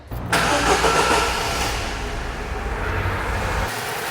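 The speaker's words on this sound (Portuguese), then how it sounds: "Vamos lá ligar o motor agora." A car engine cranks over and catches, then settles into a steady, loud idle close by with no one talking; the car is being checked for a suspected clogged exhaust or failing catalytic converter.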